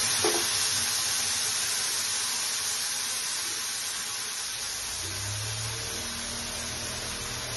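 A paste of coconut, black and white mustard and green chili sizzles in a hot pan for an egg curry, with a steady, close frying hiss that continues throughout and faint stirring and clinking against the pan.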